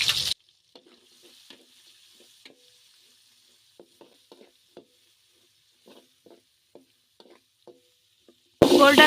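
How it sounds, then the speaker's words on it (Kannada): Three sliced onions frying in oil in a pan give a faint, steady sizzle, broken by scattered light stirring scrapes and taps, with louder bursts of noise at the very start and end. "ಗೋಲ್ಡನ್ ಬ್ರೌನ್ ಬರೋವರೆಗೂ ಫ್ರೈ ಮಾಡ್ಕೋಬೇಕು."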